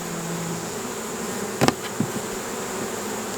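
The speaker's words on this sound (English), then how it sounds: "there's forager bees flying out." Honey bees flying around a hive make a steady drone that fills the clip, with a few brief sharp knocks partway through over a constant buzzing background.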